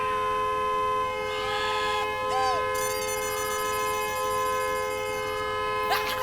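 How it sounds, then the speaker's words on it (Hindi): A car horn blares in a sustained, loud, unbroken tone with several harmonic layers, held steadily throughout while people talk and shout over it in a comedy scene. "जेठा अंकल, ये हॉर्न बंद करवा दीजिए ना"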